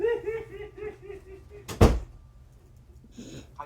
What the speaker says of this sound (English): Be sure to close the door.